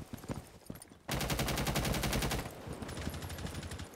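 Gunfire in a video game: a few scattered shots, then a loud, rapid automatic burst lasting over a second, followed by fainter shooting and clatter in the background, with no talk.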